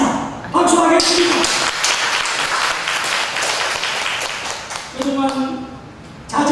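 A Sunday service congregation at a Korean church breaks into loud, full applause that swells and holds, with a voice speaking over it at the start and again as the clapping fades near the end.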